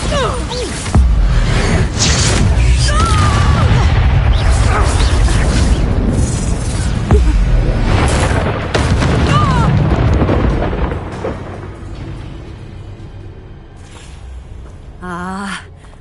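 Confringo and Bombarda spell explosions in the PS5 game Hogwarts Legacy, a run of loud booming blasts and crashes layered with the game's sound effects. The sound fades toward the end, then a final burst comes.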